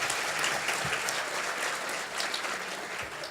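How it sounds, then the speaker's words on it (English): Steady applause from a convention audience at a sheriffs' panel, sustained, even clapping at moderate distance with no break for the whole stretch. "Let's give them a round of applause."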